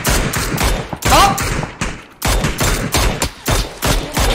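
Bursts of automatic gunfire in the PUBG video game, loud, close repeated volleys separated by short gaps, with a faint whistling sound partway through.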